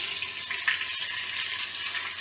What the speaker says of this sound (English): I'm going to bring it over and show it to you as it sizzles a little.